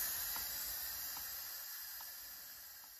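Steam release on an Instant Pot pressure cooker, a steady close hiss of escaping steam that fades slightly over a few seconds, with no voices over it.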